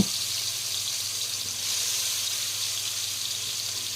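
Marinated chicken pieces frying in a pan give a steady, even hiss and sizzle that carries on without a break, close and moderately loud.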